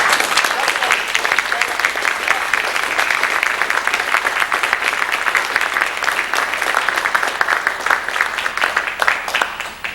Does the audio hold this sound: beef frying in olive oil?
no